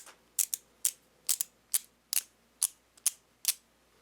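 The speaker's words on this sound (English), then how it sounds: "One thing that's really good to have is a screwdriver that ratchets." Ratcheting screwdriver used while assembling a PC, giving a close, crisp run of about nine clicking ratchet strokes in a quick uneven rhythm, mostly paired clicks, with no talking.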